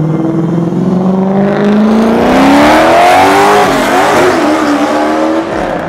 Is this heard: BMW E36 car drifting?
yes